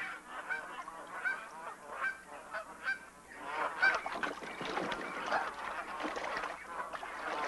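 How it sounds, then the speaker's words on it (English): A flock of dusky Canada geese in the Willamette Valley honks repeatedly, many overlapping calls rising and falling, some close and loud, others more distant, with a busy, noisy chorus throughout. "the dusky Canada geese arrive here in the Willamette Valley in October"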